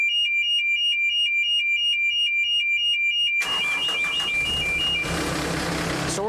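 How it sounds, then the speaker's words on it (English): A loud, repeating electronic alarm tone pulses steadily from a 50TJ machine control panel, then heavy machinery roars to life at low engine idle while the beeping continues underneath. "Gonna hear some alarms sounding and all that fun stuff."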